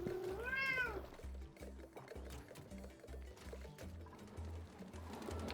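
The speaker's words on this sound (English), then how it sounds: "Did you hear my cat?" A pet cat gives one clear meow near the start, followed by a repeating low electronic game music loop that carries on alone.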